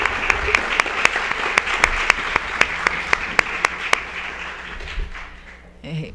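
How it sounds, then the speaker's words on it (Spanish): Audience applause at a university lecture on the Cuban economy, a room of hands clapping with several sharp, louder claps standing out in a regular rhythm before it thins and dies away. "Pido un aplauso para Viviana."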